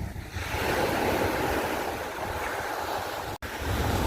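Waves of the Tyrrhenian Sea wash steadily onto an Italian beach in a constant loud roar, mixed with wind buffeting the microphone, with no talking.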